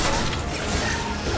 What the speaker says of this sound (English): Concussive shot!